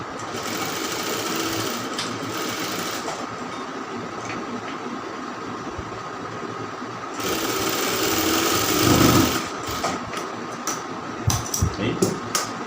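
A sewing machine hums and rattles steadily, stitching a round kameez, with a brief pause and then a louder, faster run before it stops with a few clicks.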